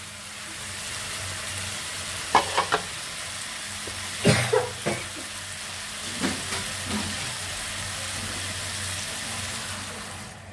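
Fish slid into a pan of cooked-down spice paste, giving a steady broad sizzle and hiss with a few sharper crackles and stirring scrapes partway through, fairly close and without any talk.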